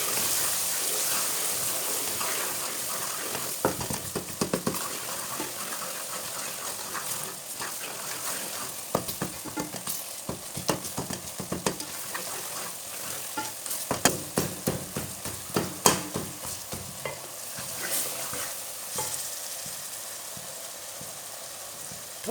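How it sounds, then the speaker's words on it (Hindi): Crushed and ground red chili and turmeric fry in a pan, giving a soft, continuous sizzle that carries scraping stirring strokes and irregular crackles, fairly quiet and close, with no talking. "इसे 1 मिनट भून लेंगे मसालों को।"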